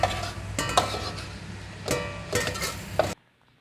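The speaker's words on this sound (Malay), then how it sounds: "Minyak panas, kita masukkan bawang untuk digoreng." Onions dropped into hot cooking oil in a wok, a continuous loud sizzle with scraping stirs and occasional metallic clinks of a utensil, ending abruptly.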